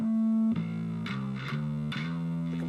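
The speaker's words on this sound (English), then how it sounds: "then you switch over to this distorted signal." Distorted electric bass played through a Hartke Hydrive 112C combo bass amp with a compressor engaged, a few gritty sustained notes changing pitch in a slow rhythm, loud and close.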